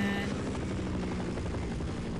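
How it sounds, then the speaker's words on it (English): In the Half-Life video game, a helicopter hovers nearby with a dense, continuous rotor thrum and low rhythmic beating, steady and loud from start to finish without any voices. "I want to blow this helicopter up so bad."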